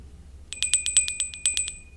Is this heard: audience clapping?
no